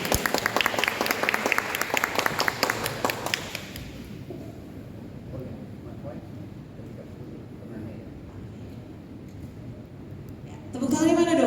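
Audience at a book launch applauding in a burst of brisk clapping for about three seconds, then fading into quiet room noise before a voice returns.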